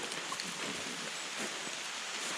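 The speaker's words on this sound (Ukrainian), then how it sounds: "Дощик трошки є, да." Soft, steady patter of light rain in the mountains, a faint continuous hiss with no voices.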